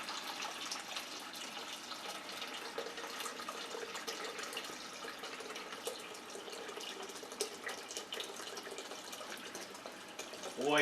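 Wort runs steadily from a mash tun while brewing an all-grain American pale ale, a continuous close trickling and splashing of liquid into a vessel, with no talk over it.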